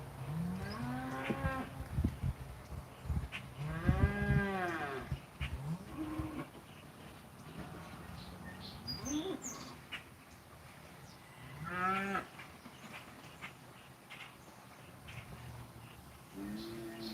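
Several cows moo in turn, loud drawn-out calls rising and falling over steady outdoor background noise, some near and others a little farther off.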